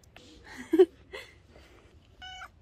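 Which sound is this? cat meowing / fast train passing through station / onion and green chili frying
cat meowing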